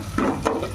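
Ginger and garlic hit hot oil in a pan for tomato rice, giving two short bursts of sizzling and stirring, close and fairly quiet.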